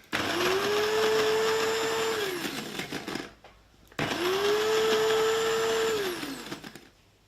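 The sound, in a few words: coffee grinder grinding dried tomatoes into powder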